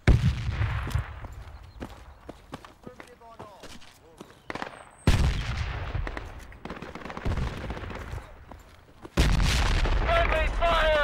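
Enemy gunfire in a video game battle rings out in repeated sharp bursts and volleys, some loud and close, others farther off, with people talking throughout.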